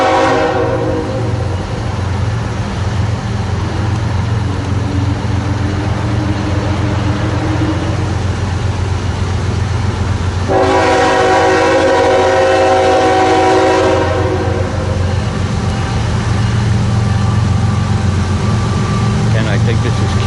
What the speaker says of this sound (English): it's going to go up north, crossing Woodbourne Road now, passing the Woodbourne train station.